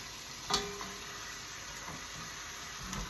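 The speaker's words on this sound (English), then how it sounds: "ribs back in and roll them around in that spice mix a bit" Beef short ribs fry in a pan coated in spice mix, giving a soft steady sizzle with a few light scrapes and clinks as they are rolled around, with no talking.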